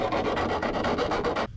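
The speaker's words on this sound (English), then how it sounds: "we're just filing this down so it's not real sharp all around" Hand file rasping along the sharp cut metal edge of a window opening in a van body, a quick series of about eight close, loud, even strokes that end abruptly.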